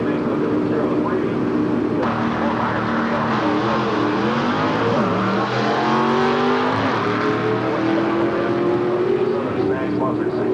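A 1969 Camaro drag car with a 350 Chevy small block roars steadily and loud at an NHRA race in Gainesville, its engine note rising under a track announcer's voice throughout.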